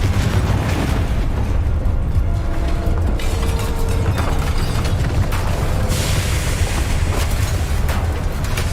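A Confringo spell blasts in a video game with a loud, sustained booming explosion that rumbles on for several seconds, a brighter burst flaring near the end.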